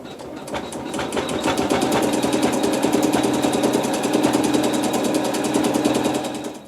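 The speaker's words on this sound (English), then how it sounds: "we're going to sew more embroidery" An embroidery machine steadily stitches embroidery for a mystery quilt, a continuous, fairly loud mechanical whir with rapid regular needle ticks running for several seconds without any talk.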